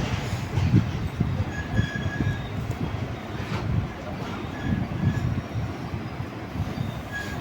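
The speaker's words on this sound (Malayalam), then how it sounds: "ട്രെയിനിൽ നമ്മൾ യാത്ര ചെയ്തുകൊണ്ടിരിക്കുകയാണ്" Steady rumble heard aboard a moving sleeper-class passenger train departing Kollam Junction, continuous low rattling and wheel noise with faint squealing tones throughout.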